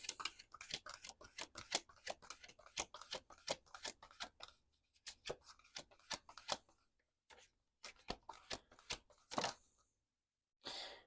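Tarot cards shuffled and drawn during a reading, giving a steady run of quick papery riffles and rubs, then a few sparse card slaps separated by silent gaps; close and fairly quiet, with no talking.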